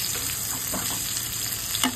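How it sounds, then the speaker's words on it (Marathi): Mutton chops sauté in a pan over low gas, giving an even, close sizzle with soft stirring scrapes and a brief louder clatter near the end, with no voices. "थोडा गॅस स्लो केला, थोडा गॅस स्लो करून ह्याला परततोय."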